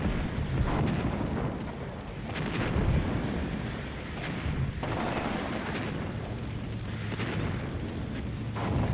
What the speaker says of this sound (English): I just want to see how many artillery shells they're throwing in